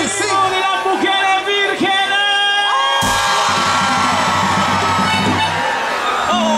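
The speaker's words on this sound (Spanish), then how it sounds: "¡El grito de las mujeres" Crowd of women at a New Year's band show shouting, whooping and cheering loudly, with high cries over music; the band swells in at about three seconds.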